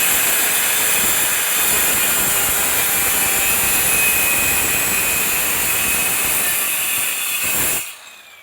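A power tool with a high, steady whine scores a line across a clay roof tile while fitting arch tiles, running continuously and loudly, then spinning down abruptly at the end.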